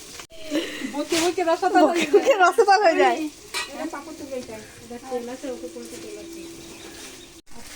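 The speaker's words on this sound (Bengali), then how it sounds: "এই তো মাংস রান্না হচ্ছে" Meat sizzles steadily in a pan as it cooks, a close, continuous frying hiss beneath someone talking.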